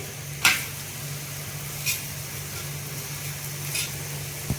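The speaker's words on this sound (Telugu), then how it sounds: "కొంచెం నూనె వేసి తిప్పేద్దామండి." A chapathi fries in a little oil on a hot pan and is flipped, giving a soft continuous sizzle with three sharp scraping clicks spaced evenly apart, close and fairly quiet.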